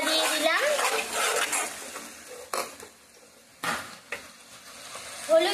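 Onion paste and black mustard paste fry in a little oil for a Bengali sesame koi fish curry, with a close, steady sizzle, a spoon scraping the pan, and a few louder clatters of stirring.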